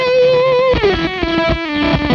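An electric guitar through a hand-wired Fuzz Face fuzz pedal at full fuzz rings out thick, saturated and buzzy, a sustained note bending down into a few quick distorted notes, loud and up close with no talking.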